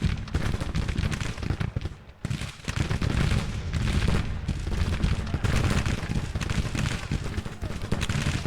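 Regiment musket volleys in a Grand Tactician: the Civil War battle, sustained rolling rifle fire with scattered cracks and distant booms running nearly continuously, briefly thinning near the middle before resuming.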